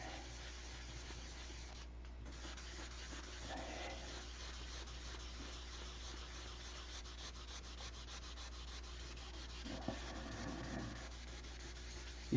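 A model airplane part is sanded by hand with steady, close, repetitive scratchy rubbing strokes that continue evenly throughout with no talking.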